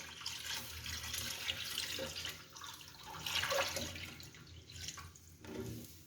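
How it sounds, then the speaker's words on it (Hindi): Milk pours into a pan on a stove in a home kitchen, a soft, steady liquid stream heard close up with small splashy variations, and no talking. "सारा दूध मैं डाल रही हूँ।"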